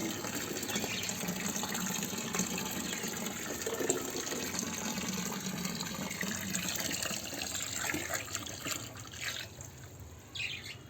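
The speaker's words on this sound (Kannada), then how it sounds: "ಈಗ ಫಸ್ಟ್ ನಮ್ಮದು ಟ್ಯಾಂಕಿನ ನೀರು ತುಂಬಿಸ್ಕೊಂಬಿಡೋಣ." Tap water gushes steadily into a turtle tank being refilled after cleaning, a continuous splashing fill with faint bird calls in the background.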